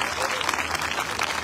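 Crowd applause for the mayor at an outdoor symphonic band concert, a dense, steady burst of clapping lasting under two seconds.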